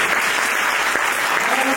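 Church audience at a women's conference applauding after a sermon, a steady dense wash of clapping filling the whole clip at close, even loudness, with no break.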